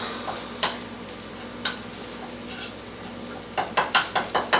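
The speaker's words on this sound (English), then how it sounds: "There's our full boil." Coconut milk and curry paste reach a full boil in a pan, giving a steady close sizzle and bubbling hiss punctuated by sharper bursts and a quick run of stirring clatters near the end.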